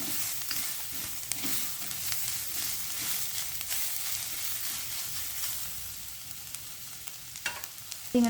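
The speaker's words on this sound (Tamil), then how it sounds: "வெங்காயம் என்ற கறிமிளகாய் கேரட் எல்லாம் நல்லா வதங்கணும்." Onion, chilli and carrot sautéing in a pan, a soft continuous sizzle with scattered clicks and scrapes of stirring, fairly quiet and close, no talking.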